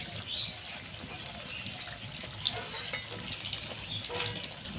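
Cauliflower pakoras fry in hot white oil in a kadai, a steady close crackling sizzle with bursts of bubbling and a few light spoon scrapes as the fritters are turned.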